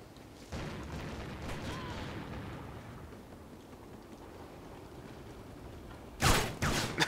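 Shotgun blasts go off in the video game Call of Duty: Ghosts. A faint, muffled boom comes early, then two or three loud, close blasts arrive near the end after a stretch of quiet rumble.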